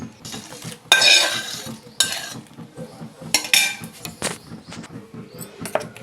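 Spice tempering pours into mint chutney with sharp bursts of sizzle, followed by clinks of a spoon and pan and stirring sounds, close and moderately loud.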